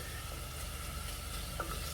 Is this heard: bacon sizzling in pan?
yes